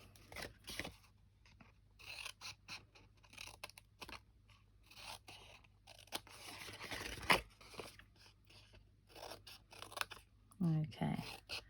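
Scissors snip and crunch through the corners of a card box to cut a flower pot shape, making quiet, irregular cuts with a voice speaking briefly near the end.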